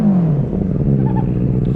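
A Benelli 600i motorcycle engine revs close by, its pitch sliding down as the revs drop, then settling into a rough, throbbing idle with mechanical clatter.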